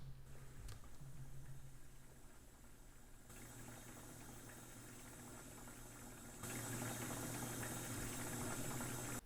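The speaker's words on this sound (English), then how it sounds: "we're going to try a relatively quiet dishwasher with a little bit of a water sloshing sound" A quiet dishwasher hums steadily with soft water sloshing and trickling throughout, playing back as a low, even background drone that swells slightly louder toward the end.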